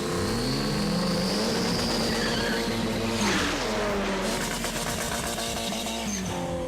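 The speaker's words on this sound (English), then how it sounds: "I think I hear your Saab purring." A Saab car engine revs and drones steadily at close range, its pitch climbing and falling, with a brief squealing sweep partway through.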